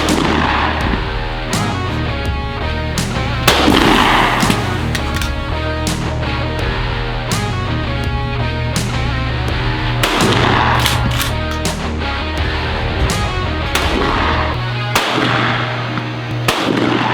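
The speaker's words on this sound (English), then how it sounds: "so we decided to hit the skeet range that afternoon" Shotguns fire repeatedly at a skeet range in Alabama, a long run of loud, sharp blasts at irregular intervals, some close together and some spaced apart, each trailing a short outdoor echo.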